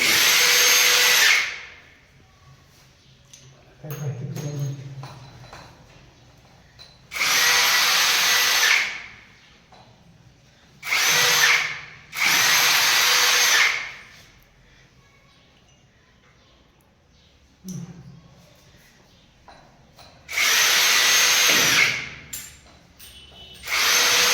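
Power drill driving screws while furnishing a new home, in about six loud, close bursts of a few seconds each separated by quieter pauses with faint background sounds.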